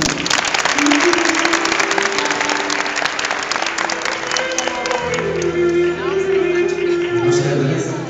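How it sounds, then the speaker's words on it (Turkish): Sustained audience applause welcoming guitarist Hasan Demir to the stage at a quality summit event, loud and continuous throughout, with a voice speaking over it and sustained musical tones entering partway through. "Alkışlarınız Hasan Demir için."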